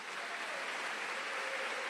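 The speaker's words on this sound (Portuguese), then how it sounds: "Você pode dar mais um aplauso a Jesus?" Church congregation applauding together, a steady, dense wash of clapping held at an even level throughout, with no voices over it.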